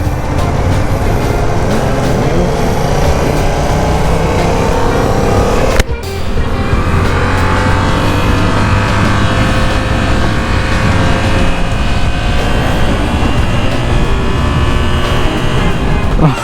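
Twin-cylinder motorcycle engine running steadily and loudly up close, a continuous throbbing drone with a brief dip near the six-second mark, no talk over it.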